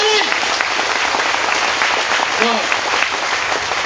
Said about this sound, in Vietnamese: Xin vỗ tay ạ.